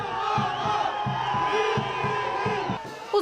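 Bolivian football fans at a match in São Paulo, with a band along, chant and cheer together from a distance, the crowd noise steady and driven by regular low drumbeats.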